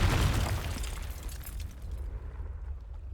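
A Confringo blasting spell explosion in Hogwarts Legacy: a loud burst at the start that trails off into a fading rumble, with no voices.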